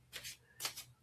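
A deck of tarot cards is shuffled in two quick riffling bursts, close and fairly quiet, with no talking over them.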